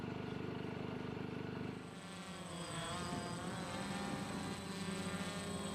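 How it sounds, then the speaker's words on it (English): A camera drone swoops in over a marathon in Milan, its steady whining buzz heard continuously and fairly loud over a broad wash of crowd and street noise. "You can hear the buzz of the drone as it swoops in"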